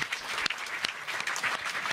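An audience at a music performance claps in a brief, fairly quiet burst of applause, with a few sharper individual claps standing out through the two seconds.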